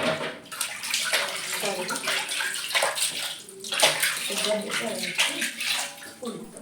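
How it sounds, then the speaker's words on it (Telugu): Water pours and splashes continuously nearby in uneven gushes from a bucket, washing deity idols during a Bonalu festival at home, with voices talking over it. "నేను వాటర్ పోస్తుంటే మా అత్తమ్మ ఇలా క్లీన్ చేస్తుంది"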